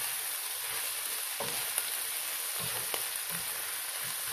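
Leftover lechon lamb fries in a pan, giving a steady close sizzle with crackling pops and occasional stirring scrapes, no talk.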